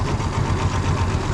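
Outboard boat motor running steadily with the choke out just after a pull start, a close, loud, continuous engine drone with slight knocking vibration and no talk.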